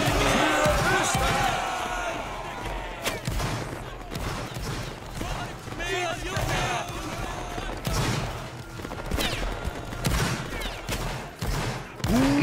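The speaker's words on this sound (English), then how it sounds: "Keep firing, guys, keep firing." Musket volley fire in a video game battle: repeated loud crackling volleys and scattered shots rolling across the field, with players shouting and chanting over the gunfire.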